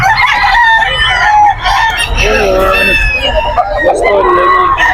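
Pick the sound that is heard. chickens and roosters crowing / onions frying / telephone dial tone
chickens and roosters crowing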